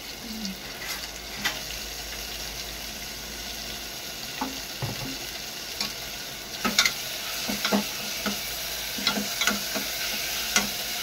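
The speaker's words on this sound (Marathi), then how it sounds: "थोडं फ्राय करून द्यायचं तेलामध्ये" Ground goda masala paste frying in oil in a pan, a steady close sizzle with scattered clinks and scrapes of stirring, no voices.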